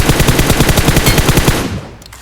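Rapid automatic gunfire from PUBG Mobile, a loud, steady burst of closely spaced shots for about a second and a half before it cuts off and fades to quiet game ambience.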